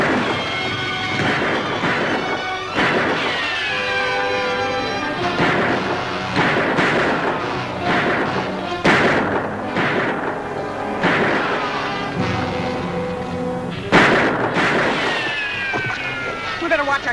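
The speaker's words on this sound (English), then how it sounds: "We better watch our shots, Lofty." Gunfire and booming blasts in the Western Privateer video game, repeated heavy thumps recurring every couple of seconds over a dense, busy game soundscape, with a voice speaking in between.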